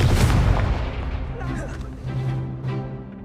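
The Confringo blast spell in Hogwarts Legacy, a loud fiery explosion bursting at the start and then rumbling and fading over a few seconds while a voice speaks over the tail.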